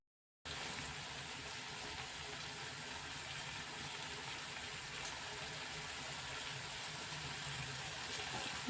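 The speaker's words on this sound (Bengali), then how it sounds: "একটু জল দিয়ে দিলাম" Water poured into a bowl of Nepali chutney made with chopped green chili, coriander leaves and lemon juice, a steady, soft continuous pour that runs for several seconds after a short silence, with no talking.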